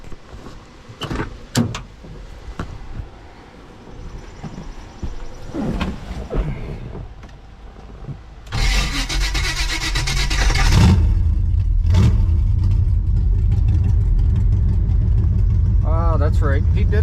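A cheap project Chevy Malibu wagon, with a muffler missing, cranks with a harsh burst of the starter and then catches into a steady, loud, low rumbling idle. Talk and some knocks come before it.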